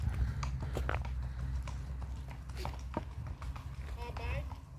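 A horse's hooves clip-clop along a riders' route at a farm, in a steady walking rhythm, moderately close, with faint voices in the background.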